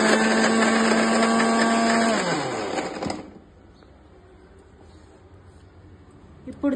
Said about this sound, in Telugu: ఇప్పుడు దీనైతే మిక్సీ పట్టుకుందాం